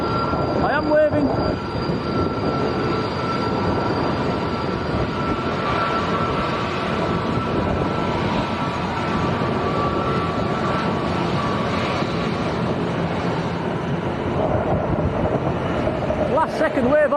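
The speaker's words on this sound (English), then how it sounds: "Condor taxiing down quite quickly." A Condor airliner taxiing at Lanzarote Arrecife Airport makes a loud, steady engine roar with whining tones throughout, heard from nearby, while a person talks over it.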